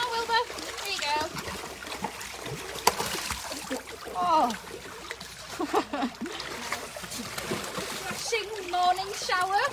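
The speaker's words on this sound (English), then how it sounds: "Refreshing morning shower from the penguins." Penguins splash through water at a wildlife park in the morning, irregular close splashes and sprays mixed with penguin calls, while people talk and someone speaks nearby.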